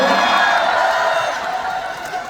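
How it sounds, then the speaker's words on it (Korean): A fan-meeting audience at a trot singer's talk event claps and cheers continuously. The sustained applause fades slightly toward the end, with mixed voices in the crowd. "박수 한번 드릴까요?"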